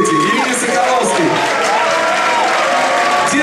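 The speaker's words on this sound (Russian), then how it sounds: "Ребят, еще раз ваши аплодисменты Александру Сапете, Ирине Соколовской." A concert audience claps and cheers loudly and steadily for performers, a dense, close wash of applause with scattered whoops and crowd voices throughout.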